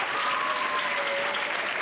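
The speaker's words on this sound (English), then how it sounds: "Whoa, you brought a cheering gallery." Dense, steady applause fills a hall at a youth recognition awards evening, a crowd clapping continuously without pause or voices.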